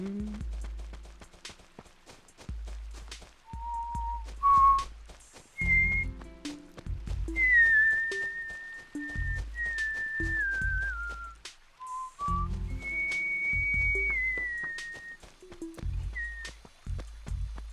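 Cozy, nostalgic Animal Crossing video game song carried by a whistled melody over a soft bouncing accompaniment with clip-clop-like percussion, playing steadily with no talk.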